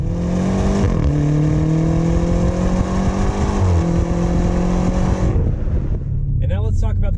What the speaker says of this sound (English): I want more from the exhaust. It's good, but I want more.